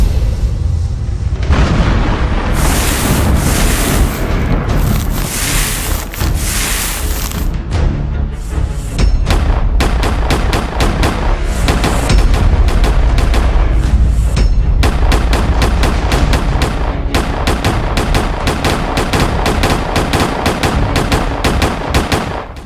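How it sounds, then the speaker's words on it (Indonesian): Police shootout in an animated drama, with long bursts of rapid machine-gun fire, heavy booms and scattered single shots, loud and continuous throughout with only brief gaps. "Seluruh pasukan bantuan tembaki seluruh polisi tersebut."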